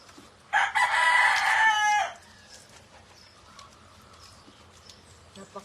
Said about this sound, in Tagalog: Napakaaga ng manok ngayon,